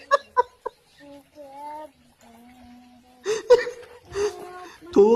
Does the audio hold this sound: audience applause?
no